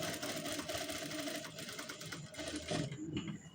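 A sewing machine runs steadily up close, stitching tucks into the back of a blouse, a continuous mechanical whir and clatter that slows slightly near the end.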